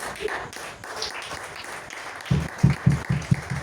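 Church congregation applauding, a quiet murmur with scattered claps that swells into a short burst of louder rhythmic clapping toward the end.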